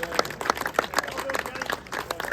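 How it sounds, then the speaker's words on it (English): Applause for event organisers James and Gus at a railway enthusiasts' gathering: scattered, fairly close hand claps from a modest crowd, uneven and brief, with distinct individual claps standing out. "Big round of applause for James and Gus, and everyone that's volunteered to make this such a special event."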